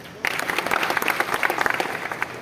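A group of workers in a safety briefing breaks into applause, a dense patter of clapping that starts abruptly and carries on evenly, close and fairly loud, with no talk.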